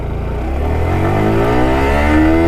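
A Yamaha R15 motorcycle engine revs hard toward its 12,000 RPM redline, a loud, close, continuous buzzing drone whose pitch climbs steadily without pause and without any talk.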